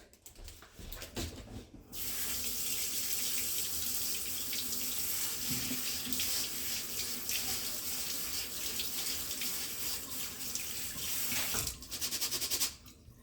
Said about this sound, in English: I have the rice rinsed and in there